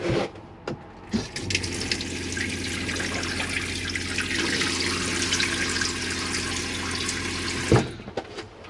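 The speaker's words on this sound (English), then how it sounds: "any water will drain off via the two exits on the shower cubicle" Water runs steadily in a Chausson Flash 14 caravan shower cubicle, a continuous close hiss and splash with a clunk at the start and end, no talking.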